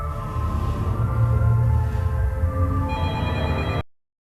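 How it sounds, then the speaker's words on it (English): A telephone rings in the Backrooms horror series by Kane Pixels, a loud, steady electronic ring that repeats close up for nearly four seconds before cutting off abruptly into silence. "The shot cuts to and lingers on a ringing phone before the video abruptly ends."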